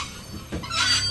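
A train rolls along its rails in The Walking Dead video game, giving a steady rumble with rising metallic squeal and hiss toward the end.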